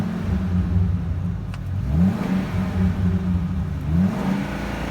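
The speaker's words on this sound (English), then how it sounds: "Sounds very, very good. It's a very healthy engine." A 2013 Ford F-450 utility service crane truck engine revs up twice, its steady idle rising in two smooth swells before settling back, heard close and loud with no talking.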